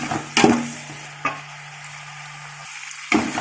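Onions with cinnamon and cloves sautéing in a pan for Hyderabad layer chicken biryani, a soft steady sizzle under a few sharp stirring knocks of a utensil against the pan.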